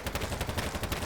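A rifle fires in Battlebit as a rapid automatic burst of evenly spaced shots, about a dozen within a second, loud and close.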